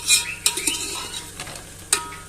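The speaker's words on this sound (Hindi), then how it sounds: "आलू हमारे फ्राई हो रहे हैं।" Potatoes frying with onions in a pan for a chickpea pulao, with a soft sizzle broken by several sharp scraping stirs of a utensil against the pan.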